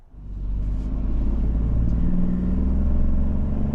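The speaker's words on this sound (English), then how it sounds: "we're on the road in this Bronco Sport, Outer Banks" A 2024 Ford Bronco Sport Outer Banks on the road, its engine and tire rumble steady and deep inside the cabin, swelling up quickly at the start and then holding even.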